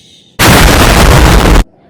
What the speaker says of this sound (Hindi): पटाखे वटाखे फोड़ेंगे।